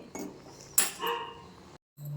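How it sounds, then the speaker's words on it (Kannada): A pet dog barking at home, a few short sharp yaps close by with a brief pause between them, fairly quiet overall. "ನಮ್ಮ ಮನೆ ಬಲ್ಲು ಬೊಗಳ್ತಾ ಇದ್ದಾನೆ."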